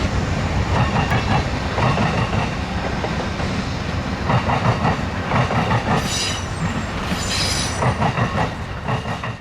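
An Amtrak passenger train hauled by a P-42DC diesel locomotive, number 145 in 40th anniversary paint, rolls past loudly in Niles Canyon with rhythmic clickety-clack of wheels over rail joints and brief squeals of wheels, steady and close.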